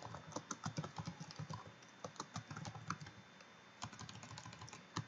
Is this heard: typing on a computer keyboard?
yes